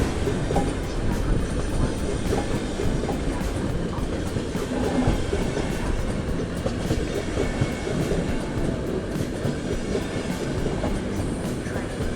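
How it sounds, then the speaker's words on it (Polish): A train arriving rumbles loudly and steadily nearby, a constant heavy roar of wheels on rails with faint clicking, no voices. "O, przyjechał pociąg"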